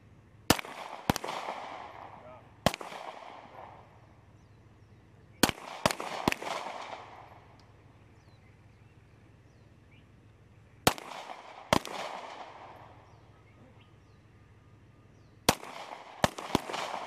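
Gunshots fired from a shooting range lane at a military Best Warrior Challenge, sharp loud cracks in irregular clusters of one to three, each followed by a rolling echo, with no talking.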